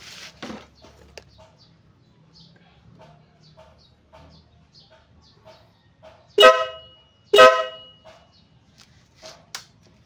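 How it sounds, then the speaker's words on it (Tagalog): A KTM Duke 200 motorcycle's upgraded horn honks twice in quick succession, loud and close, after a stretch of quiet faint beeps, followed by a softer toot. "So yan yung kanyang next upgrade ng busina"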